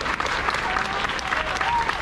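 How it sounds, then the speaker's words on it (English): Audience applause at a middle school grade 8 award ceremony, steady dense clapping from a crowd throughout, with a faint voice audible underneath. "If we could just give them a round of applause"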